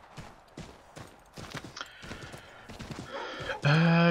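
Horse hooves clop in a quick rhythm on a street in the video game Assassin's Creed III, moderately near, ending in a louder mechanical burst of game sound.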